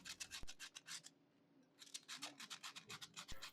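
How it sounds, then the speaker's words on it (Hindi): Close, crisp crunching bites into a fried potato chicken cheese ball, with rapid brittle crackles, a short pause, then more crunchy chewing. "तो सुन रहे हैं आप ही इसकी क्रंच की आवाज़?"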